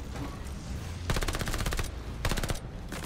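Bursts of rapid automatic gunfire in a Call of Duty: Vanguard multiplayer match, two sustained volleys of quick repeating shots, close and loud over a low rumbling game background.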